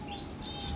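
Birds chirp and tweet steadily in an outdoor bird reserve, a continuous close chorus of small calls over a soft background hum, with no talking.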